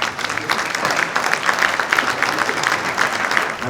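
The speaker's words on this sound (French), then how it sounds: "Bon ben on peut les applaudir" Applause from the audience at an auto recycling awards ceremony, a steady, dense wash of many hands clapping together, loud and sustained throughout with no letup.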